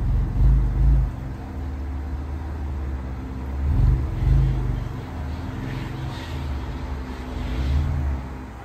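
Dodge Stealth R/T engine rumbling low and steady as the car pulls into a home garage, with the deep exhaust note swelling in a few brief surges of throttle.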